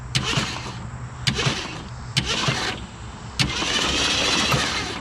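The starter motor of a Ford Galaxie with a previously seized engine cranks close by, its grinding churn broken by several sharp engagement bursts before it settles into steady turning.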